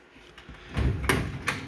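A drawer on a HON four-drawer filing cabinet slides along its runners with a soft, low rolling rumble, then settles with a couple of faint clicks, quiet and close.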